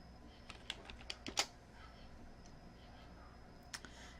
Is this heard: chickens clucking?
no